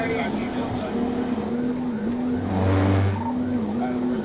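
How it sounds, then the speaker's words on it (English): A Nissan car skids, crashes and overturns after a police PIT maneuver during a highway chase, with engine roar, tire noise and a heavy low rumble heard up close and loud. "The maneuver was successful, causing the Nissan to crash and overturn."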